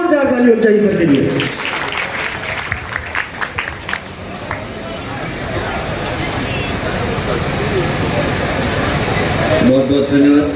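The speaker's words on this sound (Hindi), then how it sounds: "एक जोरदार ताली होनी चाहिए सर के लिए।" An audience at a Bihar Day 2025 state foundation ceremony breaks into loud, sustained clapping for an official invited to the stage, swelling and holding steady after a spoken announcement, with speech briefly heard at the start and end.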